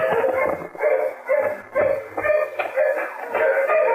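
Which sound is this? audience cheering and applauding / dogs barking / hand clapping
dogs barking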